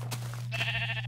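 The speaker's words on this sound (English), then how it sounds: "Thank you, sheep." A single sheep in Minecraft gives a short, close bleat over a steady low background hum.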